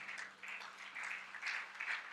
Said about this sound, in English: Can you clap for the instrumentist?